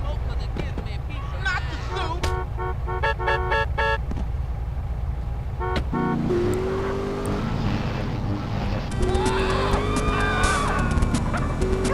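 A car drives in GTA San Andreas, its engine droning steadily and then revving and shifting pitch partway through. Game sounds are layered in, and people talk over it throughout.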